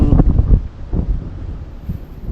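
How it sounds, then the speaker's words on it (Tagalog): Strong, gusty wind buffets the microphone outdoors, producing heavy irregular low-frequency rumbles in short bursts. "Dahil sobrang lakas ng hangin ay may bagyo ata siguro"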